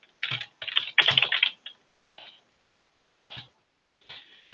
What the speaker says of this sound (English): I will try to type it here.